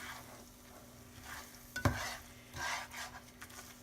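Scrambled eggs being stirred in a pan, giving a soft, quiet sizzle with a few clinks and scrapes of the utensil, close up and without voices.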